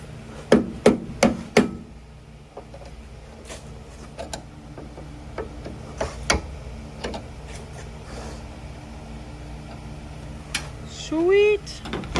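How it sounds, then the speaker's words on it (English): A hammer drives a stuck bushing into a first-generation car part during an interior restoration: four sharp metallic blows in quick succession, then scattered lighter taps and clicks, with brief voices nearby. "now hammer this in there"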